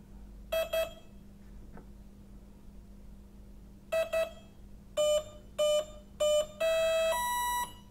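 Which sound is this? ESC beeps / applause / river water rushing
ESC beeps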